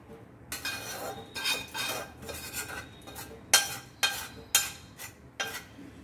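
Fried chicken pieces tipped into a pot for chicken biryani and stirred, with a series of metal spoon scrapes and clinks against the pot in an irregular rhythm, close and fairly quiet.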